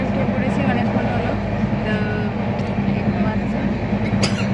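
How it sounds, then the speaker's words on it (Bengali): Inside a moving train carriage, a steady loud rumble fills the space with faint rhythmic clatter of the wheels and occasional squeaks, while voices speak over it. "ট্রেনে উঠে পড়েছি, অনেকক্ষণ হলো।"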